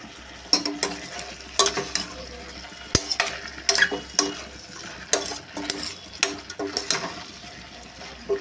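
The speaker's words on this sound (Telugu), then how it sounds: "ఇలా ఫ్రై చేసుకోవాలి. కారం అయితే దించినప్పుడు అయితే వేసుకున్నామండి. ఇంకా ఇవి చాలా ఫ్రై అవ్వాలి." Potatoes with turmeric stir-frying in a pan, an aloo fry: a spatula scrapes and clinks against the metal in repeated strokes over a low, steady sizzle, close and moderately loud.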